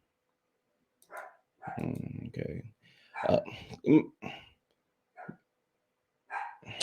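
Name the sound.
Chihuahua dog barking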